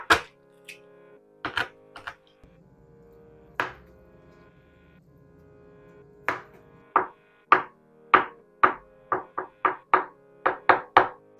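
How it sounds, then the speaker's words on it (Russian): An egg slicer cutting boiled eggs makes sharp clicking and snapping sounds, first scattered then in a steady rapid series of about a dozen crisp cuts, close up with no talking. "Или можно воспользоваться яйцерезкой."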